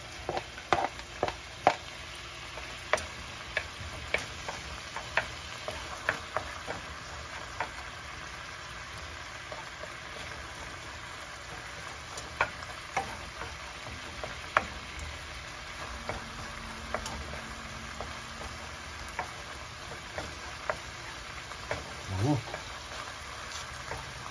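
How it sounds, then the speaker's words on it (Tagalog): Garlic and onion sauté in a pan, a quiet sizzle under repeated sharp ticks and clicks of stirring, with speech heard toward the end. "gisa tayo ng bawang, sibuyas"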